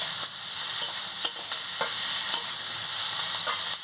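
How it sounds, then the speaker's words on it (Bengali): Shrimp and chopped onion sizzle in hot oil, a steady close hiss broken by a few light stirring knocks, with no one speaking. "এবার আমি পেঁয়াজ কুচিটা দিয়ে দিচ্ছি।"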